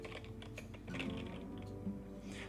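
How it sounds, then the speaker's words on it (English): Keys clatter in a quick burst as a command is typed on a computer keyboard, close and steady, with a low hum underneath. "so I'll type DokusCore"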